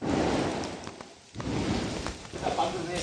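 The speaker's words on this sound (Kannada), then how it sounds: "ಗುರು ಮಳೆ ಬರ್ತೈತೆ," Steady outdoor rain pours as a dense, continuous patter during an evening of firecrackers, briefly easing in a short lull near the middle before resuming at full strength, with voices faintly mixed in.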